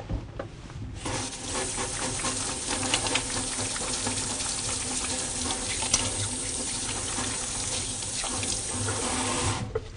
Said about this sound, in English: so I'm first going to wash my hands.